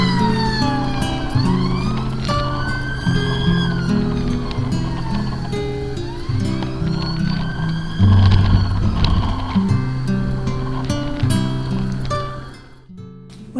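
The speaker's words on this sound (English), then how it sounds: "There is a police car bearing down on me." A police car siren wails loudly and close, sweeping up and down as the vehicle passes a cyclist near Junction 19 on the A55 Expressway, over steady traffic and road noise.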